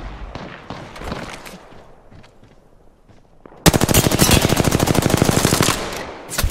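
Automatic weapon fire in Apex Legends: a few scattered shots amid game noise, then a loud, sustained rapid-fire burst of about two seconds, evenly paced and close, before a brief final shot.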